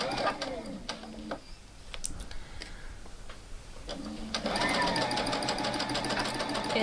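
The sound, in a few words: sewing machine stitching a seam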